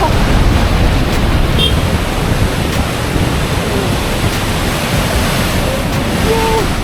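Broad, steady roar of rushing water from the big Attukad waterfall near Munnar, continuous and fairly close, with a few faint chirps or tones drifting over the constant wash.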